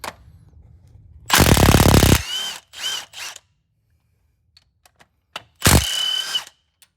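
Socket tool undoing cylinder head bolts on a 1957 Rolls Royce. Loud, close bursts of power-tool whirring and rattling come in short separate pulses, with quiet gaps and small clicks between them.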